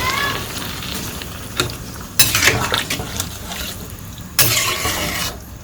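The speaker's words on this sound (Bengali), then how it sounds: "এখন জল দিয়ে দিই।" Water is poured into a hot pan of village-style mola fish curry with tomatoes, setting off bursts of sharp hissing sizzle over steady frying, with light clinks of a utensil against the pot.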